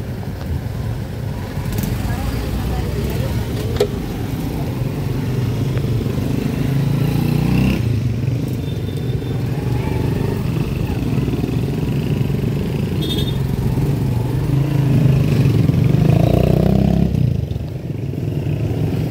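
Busy road traffic in Davao City near John Paul College, on the Ecoland bus terminal road: motorcycles and cars rumble and rev past in a continuous stream, with faint voices mixed into the steady roar.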